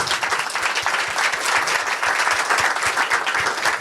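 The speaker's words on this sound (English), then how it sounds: "Can we give a round of applause to the amazing panel?" A conference audience gives a steady, full round of applause for a panel on corporate climate action and voluntary carbon markets, with dense hand clapping at even loudness throughout.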